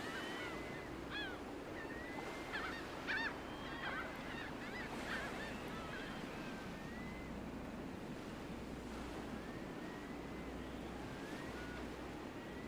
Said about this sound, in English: You should hear seagulls and sea noises.